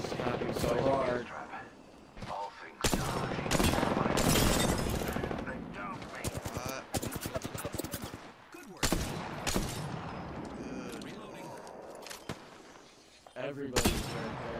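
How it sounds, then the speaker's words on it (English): Enemy gunfire in the game Apex Legends, with dense bursts of rapid shots and loud cracks that come in long stretches and then pause briefly, mixed with other game noise. "Enemies are shooting at me."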